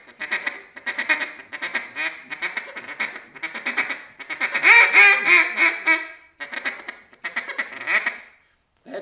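Rapid quacking mallard feeding call blown on a duck call, a steady run of chattering bursts with brief pauses between them, loud and close, no talking.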